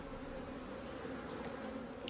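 Honeybees swarm around an opened hive during a queen introduction into a split nucleus, their steady, layered drone humming continuously up close with no voices over it.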